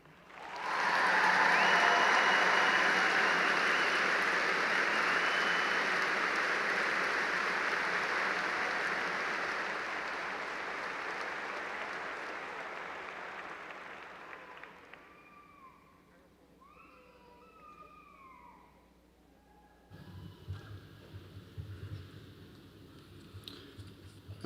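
Large graduation ceremony audience at Clemson's spring commencement applauding new graduates, a loud dense wash of clapping that swells early, holds, then tapers off, leaving quieter room sound and low rumble near the end.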